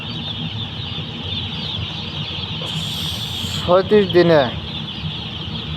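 Chickens on a poultry farm give a burst of loud, close clucking calls in the middle, set against a constant farm hum, while someone talks over the scene.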